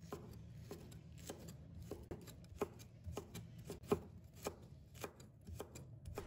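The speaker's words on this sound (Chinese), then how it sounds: "然后也切成丝" A knife chops a red bell pepper into strips on a cutting board, steady quiet knocks at a regular pace with faint scraping between strokes.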